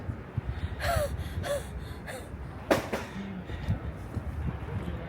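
Heavy, breathy panting from someone who has just climbed stairs on a walk at Rhine Falls in Switzerland, with a few sharp gasping breaths standing out over steady background noise.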